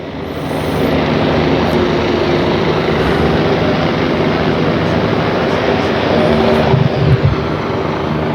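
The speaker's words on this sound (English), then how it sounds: "a New York City Police Department helicopter supervising from just the top" An NYPD police helicopter flies over the Hudson River during a parade of ships, its loud, steady rotor and engine roar filling the whole stretch with only slight swells.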